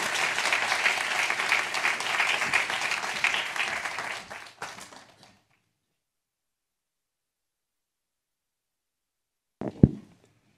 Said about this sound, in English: Let's give him a warm round of applause.